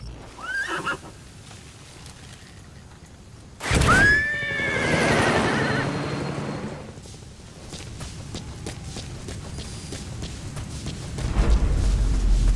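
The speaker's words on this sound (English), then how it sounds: "we'll go ahead and dismiss our horse and get him out of harm's way." A horse in Metal Gear Solid V: The Phantom Pain lets out a loud, drawn-out whinny, then hooves clop and the animal snorts, with game ambience around it.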